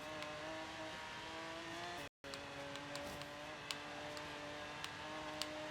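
Car engine held at full throttle in a racing game, a sustained, even, high-pitched drone with a brief dropout partway and occasional faint ticks, no talk.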